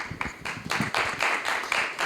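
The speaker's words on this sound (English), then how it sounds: "Don't applaud yet." An audience at a New York panel session claps in an uneven, fairly close patter of hand claps that continues steadily for a couple of seconds without talking.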